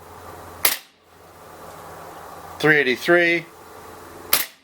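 A WE AWSS SCAR-L 6mm airsoft rifle fires three sharp, separate shots outdoors during a field test, one near the start, one near the end, with a voice speaking briefly between them.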